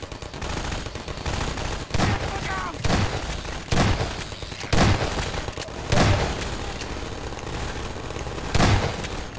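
Turret fire in Half-Life 2 Episode Two, a busy rattle of automatic gunshots with heavier bursts booming roughly every second over a continuous dense din of combat, loud and close throughout.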